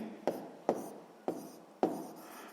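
A pen or pencil taps and scratches briefly on paper four times at an uneven pace while a map scale is noted down for a sixth-grade maths exercise, close and quiet.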